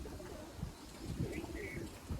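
Pigeons coo softly in a loft setup with two birds, a low throaty burble with a faint chirp or two, quiet and close.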